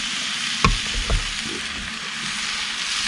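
Sauce hits grilled sausage, onions and peppers in a hot pan, giving a close, continuous sizzle with a couple of soft knocks from stirring.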